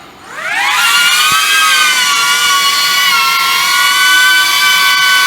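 A DJI drone fitted with three-blade propellers spins up its motors, the whine rising quickly in pitch and then holding as a loud, steady, close buzz while it flies.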